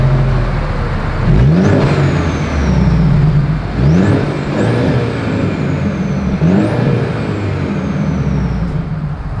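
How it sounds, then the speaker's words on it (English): A 2024 Mercedes-Benz C300 with dual exhaust outlets revs repeatedly, each throttle blip rising sharply and then falling off, three distinct rises over a steady idle, close and loud. "As always, here is that exhaust clip."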